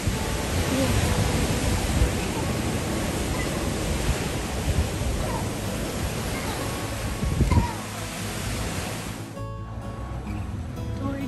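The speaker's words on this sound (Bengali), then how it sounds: "একদম সমুদ্রের মতন ঢেউ।" Pacific Ocean waves break and wash in a continuous roaring surge, loud and close, easing off toward the end.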